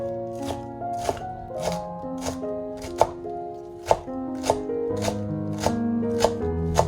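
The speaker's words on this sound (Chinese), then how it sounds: "这个时候准备几根茼蒿，先洗干净再切成茼蒿碎" A knife chops garland chrysanthemum greens on a cutting board, a steady run of close, crisp taps at an even rhythm, with no voices.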